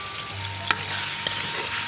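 Onions frying in hot oil in a home kitchen, a continuous close sizzle with a couple of sharp clicks of a spoon stirring the pan.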